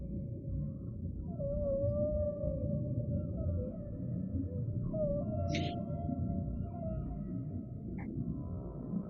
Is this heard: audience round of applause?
no